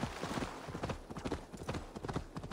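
Horse hooves clip-clop steadily in Assassin's Creed Valhalla, a fast, even rhythm of close, distinct hoofbeats running the whole time over a low ambient game backdrop.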